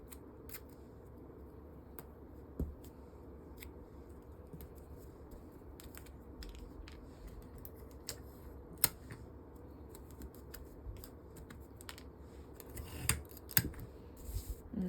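Scissors snip through taped pattern paper in a series of soft, irregular clicks and crisp cuts, close but quiet over a faint background hum.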